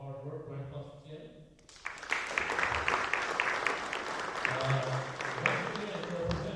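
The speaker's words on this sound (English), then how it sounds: "Round of applause for Tim." Audience applause for a presenter at a coaches summit, breaking out after a voice and building into a dense, sustained round of clapping that carries through to the end.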